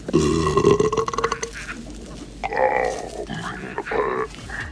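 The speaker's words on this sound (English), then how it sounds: "the loud belch made by the Garpunkel, which devours David's NASA hat" A deep, drawn-out belch for the Garpunkel creature in the 1986 film Flight of the Navigator, a human burp slowed down to sound lower and longer, loud and gurgling with a rough, grunting texture and a second wetter burst after a pause.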